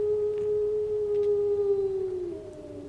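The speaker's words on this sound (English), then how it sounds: "They say it's the cry of the Hound of the Baskervilles." A film sound effect of a hound howling on the moor carries as one long, thin, wavering tone that slides gently downward. It sounds distant and eerie over a low background hush.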